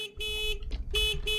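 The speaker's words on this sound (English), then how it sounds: "Does anyone else hear that honking?" A car horn in the video game Secret Neighbor honks in two long, loud, blaring blasts separated by a short gap, close and dominant.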